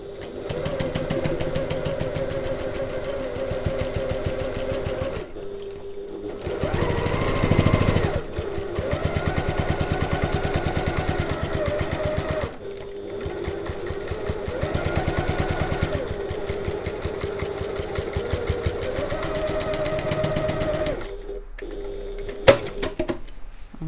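A domestic sewing machine stitches through bag layers with a steady whirring motor and rapid needle chatter, running in several long passes with short stops for back stitching, close and moderately loud.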